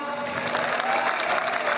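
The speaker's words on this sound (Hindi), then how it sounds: "तालियां बजाइए जरा" Steady applause from an audience at a stage programme of poetry and song, a dense, even wash of many hands clapping that holds for the whole stretch with no voices over it.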